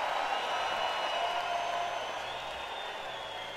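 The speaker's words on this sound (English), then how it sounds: "this is actually the applause I got." Live concert audience applause captured at front of house, a dense distant roar of clapping and crowd noise, steady and then slightly fading, no speech.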